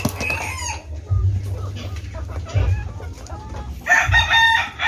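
Chickens cluck and a rooster crows close by in a backyard flock of hens nearing laying age, steady overlapping calls with louder bursts, and a voice talks briefly over them.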